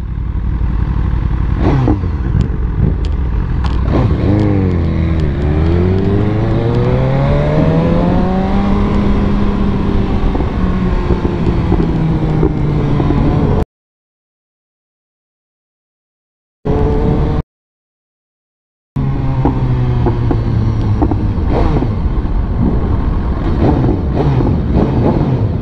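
An Aprilia RS660 sport motorcycle revs hard nearby, its engine note sweeping up and down repeatedly in loud, aggressive bursts, with a couple of brief gaps of silence partway through.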